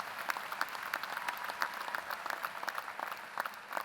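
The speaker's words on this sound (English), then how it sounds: "give a thundering round of applause to those family members, friends, loved ones, and companies whose support made this day possible" Applause from a commencement audience rings out in a hall, a dense patter of many hands clapping at moderate distance, fairly soft and sustained throughout.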